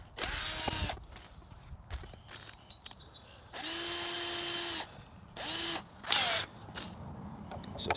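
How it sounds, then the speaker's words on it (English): A power drill pre-drills holes in wood for a backyard sandbox, running in several whirring bursts of one to two seconds with pauses and handling clatter between them. "pre-drill some holes here."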